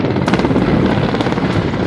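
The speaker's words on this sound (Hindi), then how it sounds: "सेना का MI-17 हेलीकॉप्टर लगातार पानी का छिड़काव कर आग बुझाने में लगा है" An Army MI-17 helicopter sprays water on a forest fire in Uttarakhand, its loud, continuous rotor thrum filling the whole stretch at close range.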